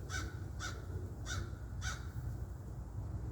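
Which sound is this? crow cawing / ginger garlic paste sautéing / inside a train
crow cawing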